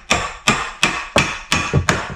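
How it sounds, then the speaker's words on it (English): Six sharp hammer taps drive bathroom trim into place, evenly spaced about a third of a second apart, close and loud with short woody decays and no talking. "My hammer. Let me tap this in right there."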